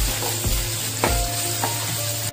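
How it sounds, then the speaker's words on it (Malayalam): Sliced onions sauté in hot oil in a pan, a loud continuous sizzle broken by a few scraping stirs, with no one speaking. "അത് ഇനി നന്നായിട്ടൊന്ന് വഴണ്ട് വരട്ടെ."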